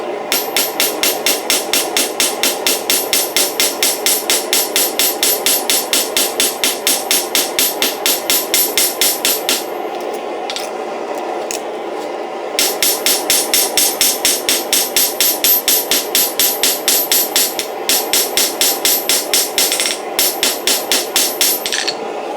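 A power hammer beats a copper ladle of roughly 1/8 inch thickness in fast, steady bursts of sharp metallic blows. The bursts pause briefly, resume, and continue close and loud throughout.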